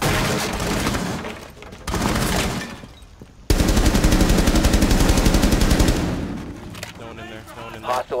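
Rapid automatic gunfire in a Rainbow Six Siege match on the Consulate map, close and loud, with a short burst, a pause, then a long unbroken stream of shots, and teammates talking faintly underneath.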